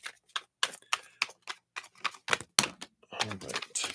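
Tarot cards are shuffled by hand in a steady run of crisp, close riffling snaps and slaps, about a dozen sharp bursts, with a louder flurry toward the end.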